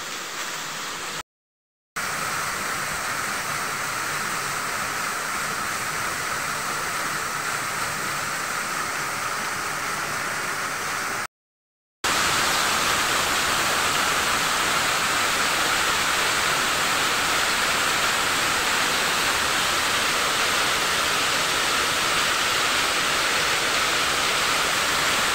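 Waterfall at the Roman dam of Corcolle, a dense, steady roar of falling water that fills the whole span, growing louder and brighter in the later part, with two very short silent gaps.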